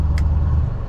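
A deep, rumbling V8 truck engine idles close by with its exhaust removed, a loud and steady low drone with a rough, unmuffled tone.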